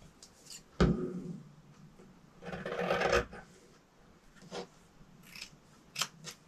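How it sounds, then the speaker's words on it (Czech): Scissors snip through fabric being cut for autumn trousers: a few quiet, separate crisp cuts, including one longer rasping stretch, close by on a quiet workbench. "A takhle to ustřihnu."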